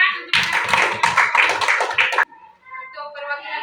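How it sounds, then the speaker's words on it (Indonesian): Classroom applause from a group of students, a burst of close, loud hand clapping lasting about two seconds that stops abruptly, followed by quieter voices talking. "kita beri tepuk tangan"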